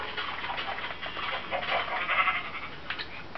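Pigs in the Minecraft video game on Xbox give a few short nasal grunts and squeals in quick succession, fairly close and clear, over a faint background hiss.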